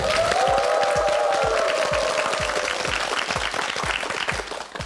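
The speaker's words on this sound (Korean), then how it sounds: "박수 보내주십시오" Loud, steady applause from a TV quiz show studio audience, many hands clapping together with a little cheering, slowly tapering toward the end.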